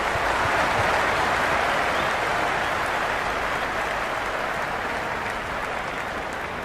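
Dense, continuous roar of a cricket stadium crowd in the video game Cricket 26 during an India vs Pakistan T20 match, a broad sustained wash of cheering that eases only slightly toward the end.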